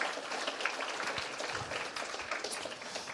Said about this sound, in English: A special round of applause for Team Magic Learn.